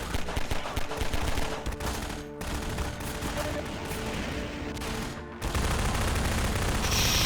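Sustained gunfire rattles on and on in Half-Life 2 Episode One, with dense bursts of shots, a brief lull, then a louder, heavier volley near the end.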